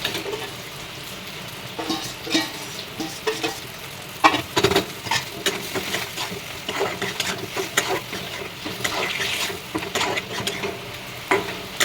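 Pointed gourd curry being stirred in a pan, with a steady run of scraping and clattering strokes over a low sizzle, close and moderately loud, and no talking.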